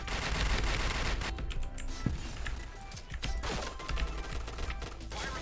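Rapid gunfire rattles in the online shooter Point Blank, dense overlapping bursts of automatic shots and clicking weapon sounds, loud and continuous throughout.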